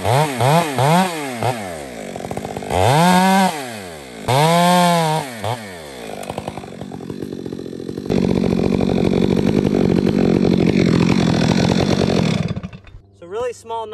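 A chainsaw cuts a small face notch in a tree during felling, sounding loud and close: the engine revs up and down in repeated bursts, then holds a sustained high whine under load before dropping away at the end.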